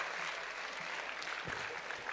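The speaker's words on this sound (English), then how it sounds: "Requesting everybody to please give a round of applause." Steady round of applause from a gathered audience at a young achievers summit in an auditorium, a dense, even wash of clapping with no voices standing out.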